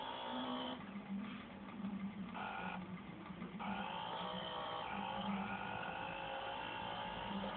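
Engine hum of a motorbike in the video game Stick Stunt Biker 2, a steady buzzing drone that shifts pitch as the bike speeds up, running continuously and fairly quietly with no talking.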